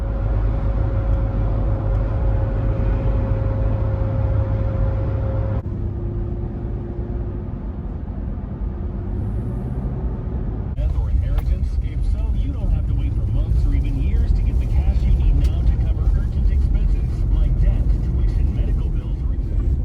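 A car drives along a Forest Service road in Virginia. A steady engine drone and road rumble are heard from inside the vehicle, and the tone shifts a couple of times as the car moves along.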